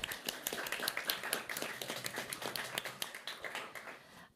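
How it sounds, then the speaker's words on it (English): Applause from a seminar audience: dense, fairly quiet clapping of many hands that holds steady for about four seconds and then begins to thin out at the end. "Let's give her a round of applause."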